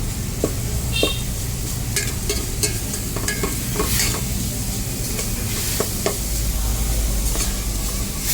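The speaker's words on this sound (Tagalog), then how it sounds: "Gisa-gisahin lang natin yung ating miso" Miso sautéing in a pan for sinigang sa miso with bangus, a steady close sizzle with scattered clicks and scrapes of a utensil stirring against the pan.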